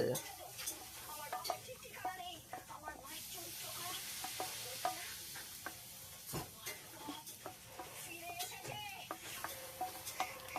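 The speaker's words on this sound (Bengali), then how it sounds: "আমি ততক্ষণ জাল দিচ্ছি, তুমি নাড়ো, একটু নাড়ো নাড়ো" Food fries in a pan in a mini kitchen while it is stirred, giving a continuous sizzle broken by frequent clicking scrapes and taps of a utensil. Voices talk at times over the cooking.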